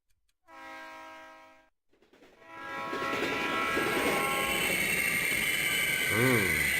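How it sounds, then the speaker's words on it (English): A train in the PS2 video game Diabolik, stopping for a lorry blocking the tracks, sounds two sustained horn blasts, then a loud, continuous rumble and rolling roar as it brakes. "The train will stop as soon as the conductor sees the lorry blocking the tracks."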